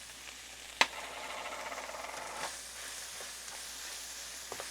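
Picadillo sizzling in a pan as spices are stirred in, a soft steady frying hiss with a sharp clink near the start and faint scraping stirs following, heard alone.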